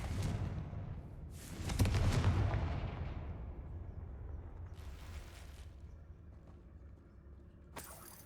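Bombarda and Confringo spell blasts in the Hogwarts Legacy game, two or three booming, whooshing explosions with long rumbling tails and a sharp crack near the end, fairly loud against quiet surroundings.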